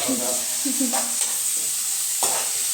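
Tomatoes sauté in a pan for a homemade sambar, crackling sizzle with several scraping stirs of a spoon against the pan, close and fairly loud, no talking.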